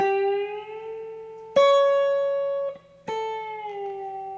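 A guitar note held with a string bend from a song lesson part is let down as the bend releases, its pitch sliding lower while ringing clearly, with two further plucked notes sounding alone over a low steady hum.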